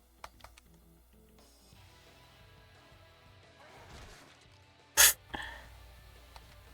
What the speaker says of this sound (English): I just hit the sneeze button for like the loudest sneeze in my life.